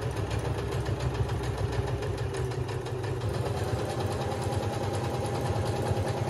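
A sewing machine stitches denim jeans with a double thread, a rapid, steady mechanical chatter that runs without pause, close and moderately quiet with no talking.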